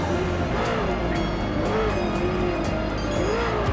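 Vintage Le Mans prototype race car in Forza Motorsport, engine droning loud and continuous with rising and falling pitch as it shifts and corners, brief tire chirps scattered throughout.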